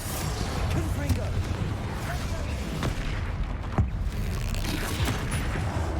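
Blasting-spell explosions and dense magical combat bursts from the Hogwarts Legacy video game, a continuous loud barrage of booms and crackling impacts with a sharp blast near the end.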